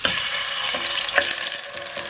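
Pieces of chicken frying in ghee and a little oil, a loud, close, continuous sizzle with occasional crackles and light stirring sounds, no voices.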